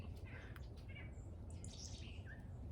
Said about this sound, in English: These little chickadees are adorable. They call their friends whenever I put the food out